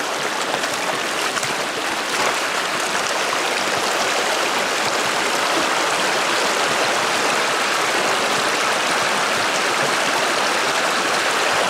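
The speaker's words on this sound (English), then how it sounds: "See the homemade sluice box in action." Water rushes steadily through a homemade gold sluice box outdoors, giving a loud, continuous wash that holds the same level throughout.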